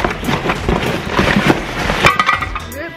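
Metal waffle maker plates clack and clatter against each other several times, sharp clinks close by amid a busy, cluttered background.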